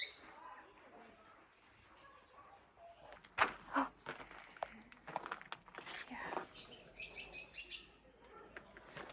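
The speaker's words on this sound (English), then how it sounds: "There's loads of different types of birds in here." Assorted birds in a garden aviary at Castle Ashby Gardens give scattered chirps and short tweeting calls, fairly faint, with a bright trill near the end, mixed with people talking nearby and a few footsteps.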